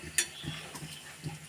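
Two eggs are stirred in a bowl for a Kerala-style egg fry, producing faint, soft scraping with a few light clinks spread over a quiet moment.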